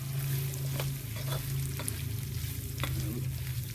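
Capsicum for dry chilli chicken sizzles and fries steadily in a hot pan, a continuous close crackle with a few sharp stirring clatters scattered through.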